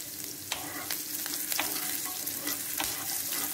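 Cumin seeds and green chilies sizzle in hot oil for a vrat-style dahi aloo, a close, continuous crackling hiss with scattered sharp pops and light stirring clicks, no voices.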